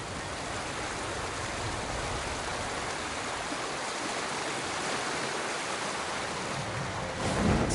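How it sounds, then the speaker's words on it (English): A video game waterfall roars in Ghost of Tsushima, a steady, dense rush of falling water heard up close at a constant, moderately loud level with no voices over it. "Under the waterfall."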